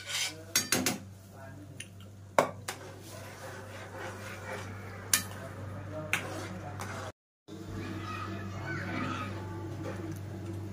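Rice kheer being stirred in a pot for a Diwali sweet, with a spoon clinking and scraping against the metal in irregular clicks and clatters over a steady low hum, with a brief gap of silence partway through.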